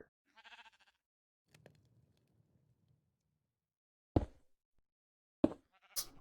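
Sheep bleating in Minecraft, a few short, close bleats spaced out between quiet gaps, mixed with occasional brief game clicks and soft rustling.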